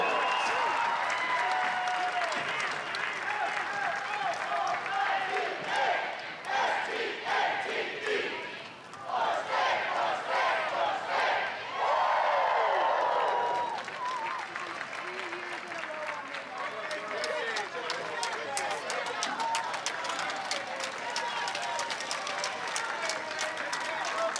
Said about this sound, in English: how about a big round of applause for your 2026 ACC Softball Champion